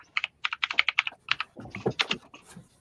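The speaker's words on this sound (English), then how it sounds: "Beth sounds like she's just beating her keyboard to hell when she types" Rapid, uneven keyboard typing, close up, with hard clacking keystrokes in quick bursts, the later strokes heavier and deeper.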